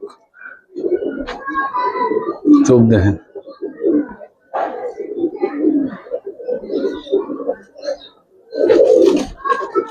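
Silver Giribaz pigeons being handled at close range give soft, rolling coos in short bursts, mixed in with people talking nearby.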